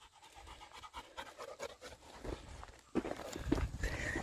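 A dog breathes in steady, quick pants close by while walking along a trail beside a person. The footsteps crunch and shuffle, and the sound grows a little louder toward the end. Nobody speaks.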